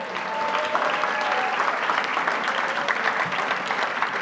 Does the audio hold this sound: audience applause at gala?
yes